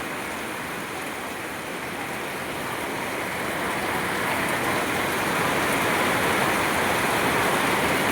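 Heavy rain pours onto a flooded road, a dense steady roar of falling water that swells louder over the second half, with no voices.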